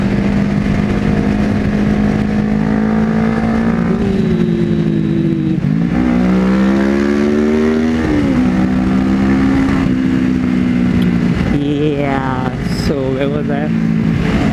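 A Kawasaki Ninja 300 motorcycle engine revs up and down nearby in repeated rising and falling sweeps, loud and steady throughout, with some voice underneath.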